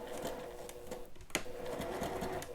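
A sewing machine runs steadily while stitching the half-inch seam of a bunny-print dress bodice, a close, even mechanical whir with faint rhythmic ticks and one brief sharper click partway through.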